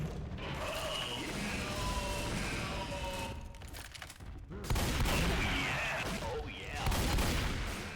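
Rapid bursts of gunfire from a Left 4 Dead style zombie shooter crackle almost continuously, with a louder flurry near the middle and more toward the end, under excited player talk.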